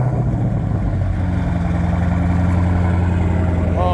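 A Dodge Charger Hellcat Redeye wide body runs with a loud, deep, steady engine rumble close by, holding an even idle for the whole stretch.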